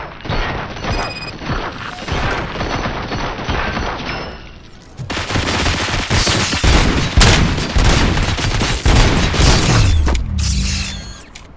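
Rapid bursts of gunfire and heavy impacts from the Robocop video game, loud and dense, broken by a brief lull before a sustained barrage with crashing booms near the end.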